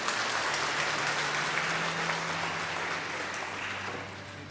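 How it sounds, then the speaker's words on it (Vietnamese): A church congregation at a Vietnamese Easter Vigil Mass applauds a newly baptised adult, a dense, steady round of clapping that fades gradually over several seconds, heard on its own without talk. "Chúng ta chúc mừng chị một tràng pháo tay thật lớn ạ."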